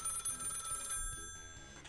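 A telephone rings in a studio setting, a steady electronic ringing tone with bright repeating tones holding for about a second before fading, loud and close with no talk over it.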